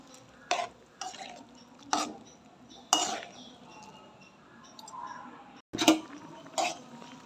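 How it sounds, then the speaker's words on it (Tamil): Noodles stirred into soup in a pot, with several separate close scrapes and clinks of a utensil against the pot spaced across the clip, set against a quiet background and a faint simmer. "சேர்த்து அதையுமே அப்படியே மிக்ஸ் பண்ணி விட்டுருவோம்."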